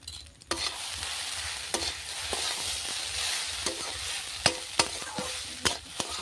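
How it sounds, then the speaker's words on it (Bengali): Chowmein fries in a kadai with a constant sizzle, while a spatula scrapes and knocks against the metal in sharp, irregular strokes close by. "আরেকবার কড়াইয়ে দিয়ে ভেজে নেব"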